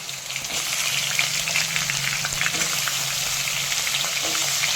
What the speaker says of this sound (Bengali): এরপর গরম তেলে দিয়ে দিচ্ছি লবণ হলুদ মাখিয়ে রাখা আলু